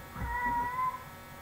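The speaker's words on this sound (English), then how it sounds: "that noise you heard was my kitty cat." A single drawn-out cat meow, close and fairly clear, rising then holding a steady tone for about a second before stopping.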